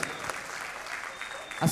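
Audience clapping at a Ganeshotsava evening music concert, a steady, dense wash of applause lasting throughout, moderately loud with a brief swell at the end.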